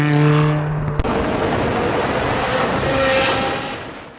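Ferrari 360 Challenge Stradale with its 3.6-litre engine roaring through a tunnel, a steady engine note that shifts abruptly about a second in, then a sustained loud rush with echoing reverberation and no talking.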